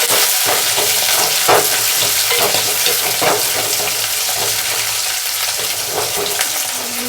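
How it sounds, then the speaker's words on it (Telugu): Curry leaves and onions fry in a pan for a pulusu with green gram, carrot and eggplant, a loud, close sizzle with scraping stirs and utensil knocks and no voices. "అందులోనే కరివేపాకు, కొద్దిగా వేగనిద్దాము ఉల్లిపాయలు"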